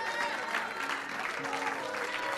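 A church congregation at a Sunday service claps hands in praise, a soft, even wash of many hands clapping at moderate distance, with a faint voice carrying over it.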